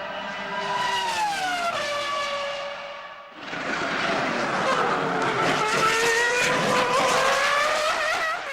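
A high-revving F1 V10 racing engine screams at full throttle, its pitch climbing then dropping before roaring up again, loud and continuous.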